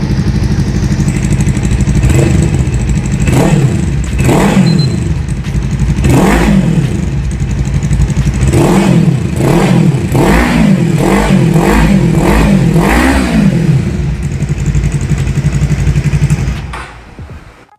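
A Fekon Falcon X400 parallel-twin motorcycle with a dual-barrel exhaust idles loudly, then is revved in a series of sharp rising and falling blips, about eight in a row, before dropping back to idle and cutting off.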